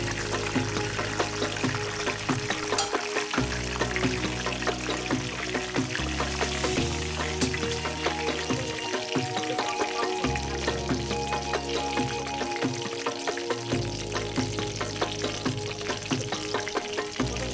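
Banana slices frying in hot oil for Kerala banana chips, a dense, loud bubbling sizzle that runs steadily throughout without any talking.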